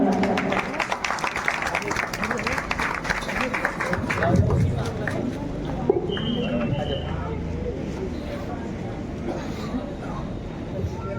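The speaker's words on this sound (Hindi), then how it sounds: "एक बार जोरदार तालियां।" Crowd applause at a New Year gathering in Gwalior, steady dense clapping running the full length at moderate loudness, with voices and background chatter mixed in throughout.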